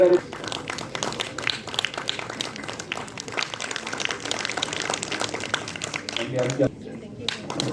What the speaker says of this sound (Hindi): एक बार जोरदार तालियां हो जाए डॉक्टर रविंद्र जैन के लिए भी।